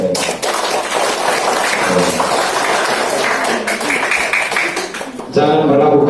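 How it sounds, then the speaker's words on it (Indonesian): Applause for student performers at a school youth reflection and scout rank ceremony, a steady broad wash of clapping filling the hall, with crowd noise and a voice rising near the end. "Tepuk tangan untuk mereka."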